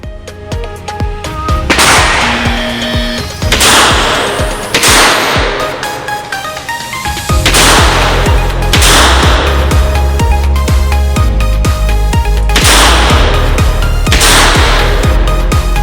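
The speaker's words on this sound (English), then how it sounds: "I need to fire 2 rounds with both hands, 2 rounds strong hand only, and then 2 rounds weak hand only" A Smith & Wesson Model 10 revolver fired at a shooting range in a timed qualifying stage, several loud sharp cracks spaced a second or two apart, each with a brief ringing tail.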